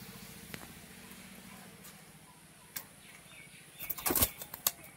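A large, long-bodied pigeon being handled flaps its wings in a few sharp bursts, with scattered flutters early on and a louder, close flurry of rapid wingbeats near the end, over a low steady background hum.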